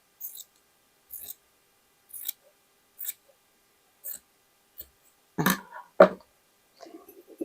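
Scissors snip through fabric for a patchwork lace shawl in a steady series of about nine crisp, close cuts roughly a second apart. The last few cuts are heavier, and a faint rustle of cloth follows.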